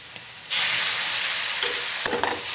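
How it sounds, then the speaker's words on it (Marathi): Spices for dal fry, with curry leaves, sauté in a hot pan. A loud, steady sizzle bursts in after half a second and holds, with a few scraping stirs near the end and no talk. "अजून 1 मिनिट घेते छान परतून"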